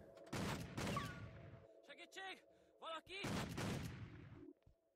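Shotgun blasts in the video game Hitman: Contracts, two loud booming shots with tails mixed among game sounds and tonal effects, then a third burst after a quieter stretch.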